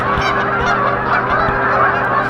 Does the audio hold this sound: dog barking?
no